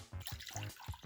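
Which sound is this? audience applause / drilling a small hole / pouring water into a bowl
pouring water into a bowl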